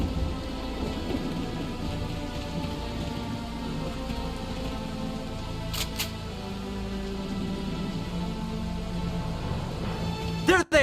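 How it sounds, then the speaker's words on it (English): A thunderstorm in the Valkyria Chronicles 4 video game, with steady heavy rain drumming on surfaces and low rumbling thunder underneath, plus a couple of brief sharp clicks and a sudden crack near the end. "I hate thunderstorms."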